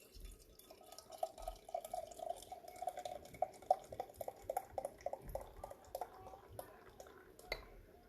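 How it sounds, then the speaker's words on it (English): Homebrewed real ale pours into a glass in faint, intermittent trickles and splashes that gradually thin out. "so we'll give it a little pour."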